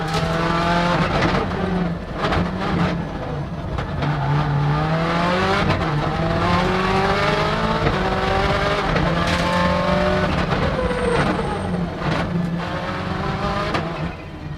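A World Rally Championship car from the 2000 season screams through stages at high revs, engine pitch climbing and dropping through repeated gear changes with brief tire squeal, loud and close for the whole stretch.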